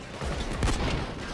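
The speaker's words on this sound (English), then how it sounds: "Actually didn't mean to shoot that guy" A single sharp gunshot cracks out in the heist video game Payday 2, a short loud burst over steady game ambience.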